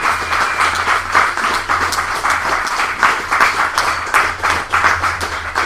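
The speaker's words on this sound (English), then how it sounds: "final applause." Sustained audience applause for a feature poet at an open mic poetry evening, steady dense clapping throughout with a low hum underneath and no talking.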